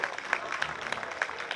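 Crowd at the Santa Fe Indian Market 2023 Native American clothing contest claps for the senior men's first-place winner, a brief burst of brisk applause with distinct individual claps, moderately near.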